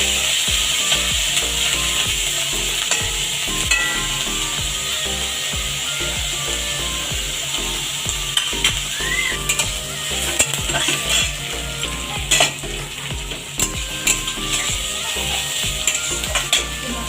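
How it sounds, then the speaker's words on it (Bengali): Chopped onions frying gently in oil in a pan, a continuous close sizzle with repeated scraping and stirring strokes of a spatula throughout. "পেঁয়াজগুলো আমি খুব বেশি ভাজবো না, নরম নরম করে ভেজে নেবো"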